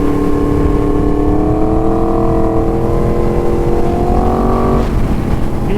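A 2022 Yamaha MT-10 SP motorcycle pulls hard in sixth gear, its engine a loud, continuous, close drone with a slowly climbing pitch, layered over heavy wind rush with no talking.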